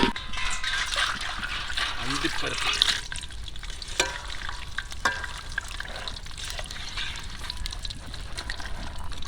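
Pieces for a large batch of goat biryani fry in hot oil, a loud continuous bubbling sizzle with stirring scrapes throughout and faint voices in the background.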